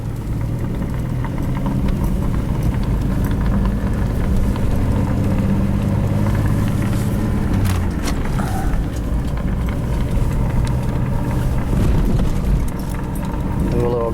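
A car fitted with a homemade fuel vaporizer drives around a residential neighborhood, its engine a steady loud drone with road rumble throughout, recorded from a camera mounted inside.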